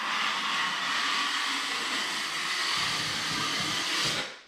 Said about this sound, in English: you'll hear that blade scraping against the wall